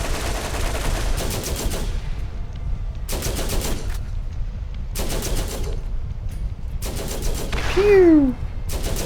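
Automatic weapons fire in Borderlands comes in four loud, sustained bursts separated by short pauses, with a whistling, descending tone sweeping through after the last burst.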